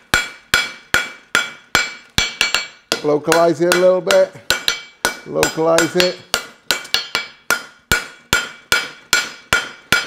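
Hammer forging a horseshoe's frog plate on an anvil, sharp ringing blows in a steady rhythm, interrupted midway by a person talking before the hammering resumes.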